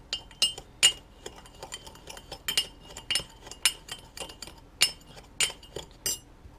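Spoon clinking against a glass bowl while tomato sauce ingredients with sugar and fresh ground pepper are mixed, a steady run of bright, close taps and scrapes with no talking.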